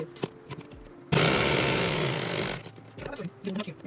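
A sewing machine stitches a rose sleeve in one loud, steady burst of rapid mechanical chatter lasting about a second and a half, with quieter handling sounds before and after.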